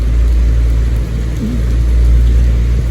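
Rain falls steadily beside an irrigation canal, a continuous broadband hiss with low rumbling underneath, even and close, with no voices.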